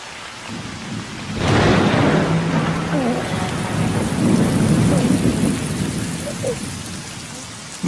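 Heavy rain pours steadily, joined by a low rumble of thunder rolling underneath the dense hiss of falling water.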